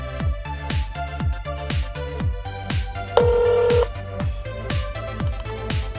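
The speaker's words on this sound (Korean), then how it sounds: "다시 한번 전화를 걸어보도록 하겠습니다" A phone call is placed and the line plays a musical ringback tone with a steady thumping beat and melody, heard through the handset. A brief brighter tone rises over it midway.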